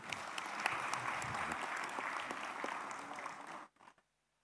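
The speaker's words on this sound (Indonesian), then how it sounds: "Boleh tepuk tangan dong." A room of lawmakers at a parliamentary commission session claps together in a sustained, even round of applause that holds steady for several seconds, then cuts off sharply, leaving a couple of stray claps and near silence.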